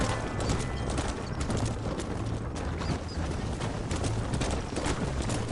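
Horse hooves clip-clop rapidly and steadily in Red Dead Redemption, a dense, continuous riding rhythm heard up close with no talk over it.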